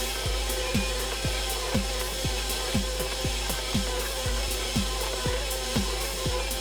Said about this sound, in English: The mixer will take about 5 minutes with a dough hook